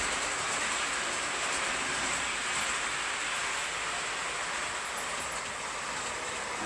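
A model DMU train running over the points of a layout, heard as a soft, continuous rolling hiss and rumble at low volume with no voices.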